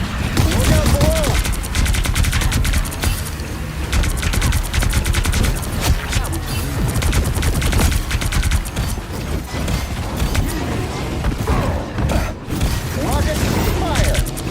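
Dense rapid gunfire and rocket blasts in the game Marvel Rivals, loud and continuous with mechanical clatter, with voices talking over the action.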